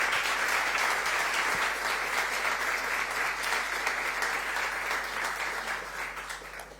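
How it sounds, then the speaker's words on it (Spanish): Church congregation applauding their pastor after new members are welcomed, a sustained, even roar of clapping with no voices, slowly easing toward the end. "pastor, con un fuerte aplauso."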